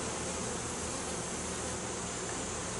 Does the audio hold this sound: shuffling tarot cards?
no